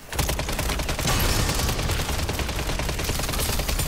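Rapid, continuous submachine gun fire from MW3 Zombies rattles on loud and unbroken for nearly four seconds, with no voice over it.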